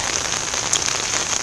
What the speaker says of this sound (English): It's been raining for a while.